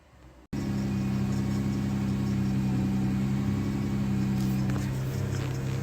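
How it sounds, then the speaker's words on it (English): 2016 Dodge Grand Caravan with a head gasket fault, coolant in the exhaust: the engine cranks and catches abruptly, then settles into a loud, steady idle hum, close by, with no talk. "So we're going to start the thing up now and see if any of them come back."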